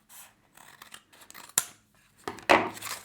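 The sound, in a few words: scissors cutting food packaging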